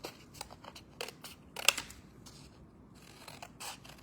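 Scissors snip through paper petals cut two at a time, a string of crisp close cuts in uneven rhythm with brief rustling of paper between them, fairly quiet and with no voices.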